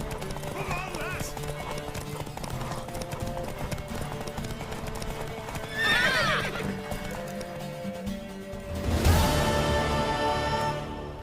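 Horse hooves clip-clop in The Witcher 3 video game, steady rhythmic hoofbeats through the whole clip with a sharp whinny near the end, set against game music and ambience.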